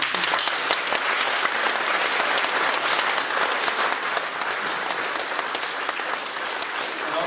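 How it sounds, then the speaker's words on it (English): A dense, steady round of applause fills a graduation ceremony hall as the audience claps for the graduates' parents, continuous and even with no pauses. "give them a round of applause for their"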